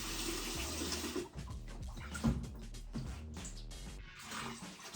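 Water pours steadily into a 15-litre brewing pan as strike and sparge water for a raspberry and blueberry sour beer, a continuous close splashing with no voices.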